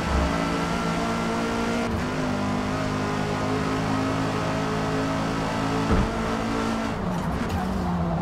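Race cars in an online Forza Motorsport multiplayer race roar continuously, with engines revving and shifting. The player's car has severe front tyre wear and a rival sits close behind, and the loud engine noise fills the whole stretch.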